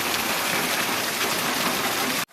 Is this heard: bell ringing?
no